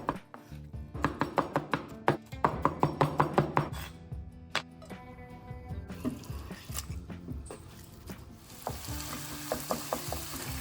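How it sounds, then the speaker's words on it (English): Repeated sharp clacks and scraping of a utensil against a frying pan as chicken breast fries, with a steady sizzle underneath and hissing toward the end. "Fry chicken in the frying pan."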